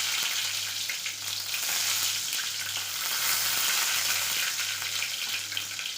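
Mustard seeds and curry leaves fry in hot oil with a steady, crackling sizzle that runs unbroken and close, with no voices over it.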